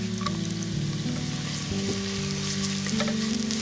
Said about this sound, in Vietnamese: Cho vào nồi khoảng 2 muỗng canh dầu. Mình cho hành tím và tỏi vào phi thơm.